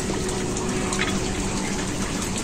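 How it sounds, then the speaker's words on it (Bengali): A pot of chicken curry gravy with garam masala rolls at a continuous boil, its dense, steady bubbling loud and close throughout. "গরম মশলাটা দেওয়ার পর আরেকটু মাংসের ঝোলটাকে ফুটিয়ে নেব ভালো করে।"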